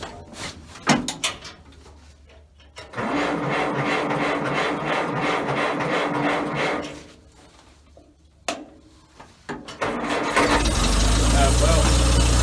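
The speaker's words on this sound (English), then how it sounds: "We're going to see if we can get it fired up" A Farmall Cub tractor engine cranks in a long grinding burst, pauses with a few clunks, then catches and settles into a loud, steady running roar nearby.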